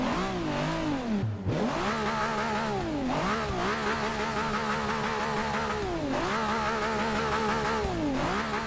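A prototype race car engine in Forza Motorsport 6 starts and revs loudly and continuously, with repeated rising and falling pitch sweeps as it accelerates and backs off, no voices.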